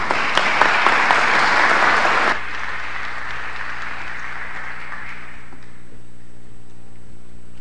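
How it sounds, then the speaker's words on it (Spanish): Audience applause welcoming the president of Transparency International at a seminar, dense sustained clapping for about two seconds that then cuts off abruptly into quiet room tone. "recibiendo con fuertes aplausos"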